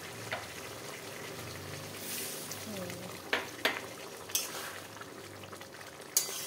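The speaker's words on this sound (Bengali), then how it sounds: "এবার গ্যাসটা একদম কমিয়ে আমি 10 মিনিট এটাকে সেদ্ধ হতে দেবো।" Chicken simmering in a pan after a cup of hot water is added for chicken kosha, giving a continuous soft bubbling hiss over the low gas, with a few sharp clinks and scrapes of a utensil against the pan.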